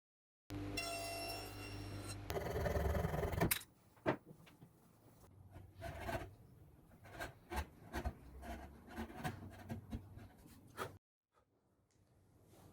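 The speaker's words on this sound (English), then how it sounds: "I'm enjoying cutting the dovetail pins. Quite good to work with, even across the end grain with a sharp chisel." A sharp chisel pares across the end grain of New Guinea Rosewood to cut dovetail pins, heard as close, crisp scraping strokes in an uneven rhythm after a brief burst of louder machine noise.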